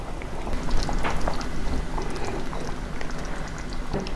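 A pot of fish pada curry with Kashmiri chili simmers at a rolling boil, a steady close bubbling and popping with scattered sharp spatters throughout, no voices.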